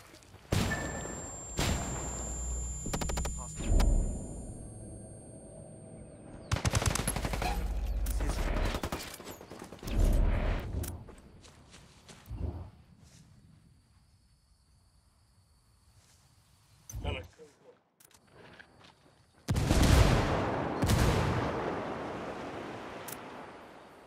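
Gunfire in a Ghost Recon Wildlands firefight crackles in scattered bursts and single shots, some loud and close, others distant, with quiet gaps and insect-like chirping of the outdoor scene between volleys.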